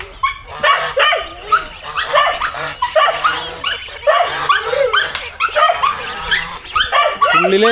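Dogs bark and yip repeatedly in quick, irregular bursts, loud and close, with some whimpering between the barks.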